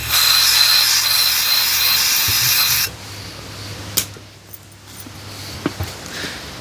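Compressed air blasts brass debris off a cylinder head during valve guide removal, a loud steady hiss for nearly three seconds that cuts off, followed by quieter clicks and handling noises.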